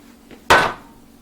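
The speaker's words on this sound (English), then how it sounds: "I'm going to get this bowl out and set it down here" A glass bowl set down on a kitchen counter after microwaving eggs, giving one sharp clunk that fades quickly, with a faint bump just before it.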